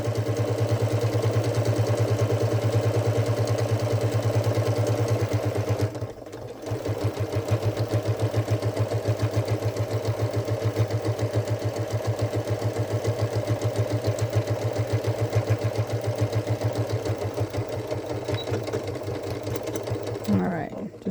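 A sewing machine stitches the seams of a fabric Christmas stocking for a cat, running in a steady, close mechanical hum with a fast repeating needle rhythm, pausing briefly once and then resuming.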